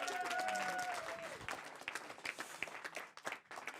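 A live audience applauds a band at a broadcast Frisian music show, a dense, steady patter of many hands clapping close by, with crowd noise and a faint voice under it.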